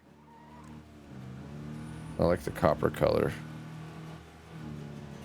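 A truck in the video game State of Decay 2 drives with a steady engine drone that rises as it accelerates, while someone talks briefly over the middle.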